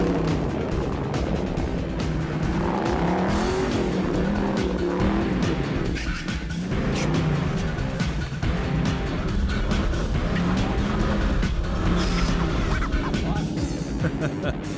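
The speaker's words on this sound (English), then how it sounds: "the final muddy obstacles for this truck are the toughest" A 1966 Ford Bronco truck charges through tough muddy off-road obstacles, its engine roaring loud and steady throughout with revving surges and churning, splashing noise, close and continuous for the whole stretch.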